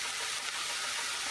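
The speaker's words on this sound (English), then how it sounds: "the mushrooms are now sizzling away in the dry pan" Mushrooms sizzling in a dry pan, a steady close hiss and faint crackle holding level throughout with no talk.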